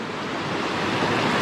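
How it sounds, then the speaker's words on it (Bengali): Water rushes along a flat trekking trail in Bandarban, a continuous broadband roar like a stream or cascade nearby, steady and fairly loud, with no voices. "চলার পথে এরকম পানির শব্দ অসাধারণ লাগে।"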